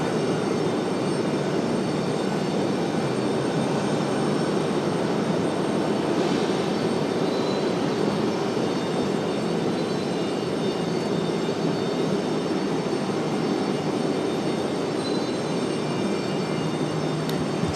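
Jet aircraft at Raleigh-Durham airport, including an older plane in the Alaska fleet, give off a steady, broad engine roar that holds at even loudness throughout, heard from the airfield without talk.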